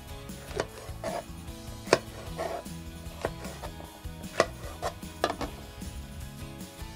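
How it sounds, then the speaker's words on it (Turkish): Irregular knife chops and taps chopping peppers on a cutting board, close by, with soft clicks and clatter between strokes and no talking. "Ben biberlerimizi bu şekilde doğruyorum."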